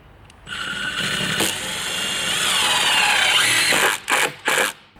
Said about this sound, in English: Put a few more screws in the back